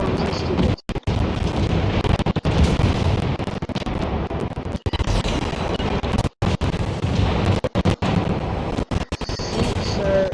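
Heavy naval gunfire in World of Warships, loud booming blasts and rumbling explosions layered densely over a continuous roar of battle, with sharp dropouts between some salvos.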